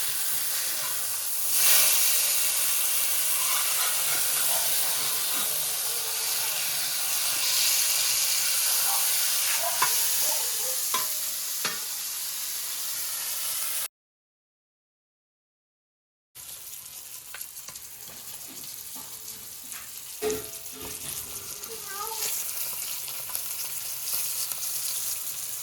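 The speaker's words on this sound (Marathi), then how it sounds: "चला, आता आपला पापलेट फ्राय झालेला आहे।" Pomfret fish frying in a pan over a wood-fired clay stove, a continuous close hiss and sizzle of oil with occasional crackles and a few utensil clinks, briefly cut to silence midway.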